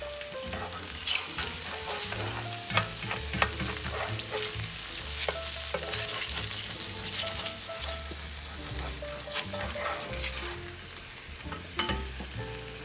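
Butter, about a third of a stick, melts and sizzles in a pan with a steady close crackle and occasional scraping stirs, alone for the whole stretch.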